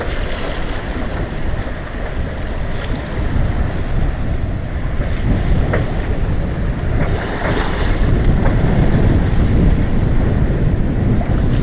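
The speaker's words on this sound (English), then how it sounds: "Very windy." Strong wind blasts across a sailboat on the water near the Tappan Zee Bridge, a steady loud roar with gusty microphone buffeting and rushing waves, no voices.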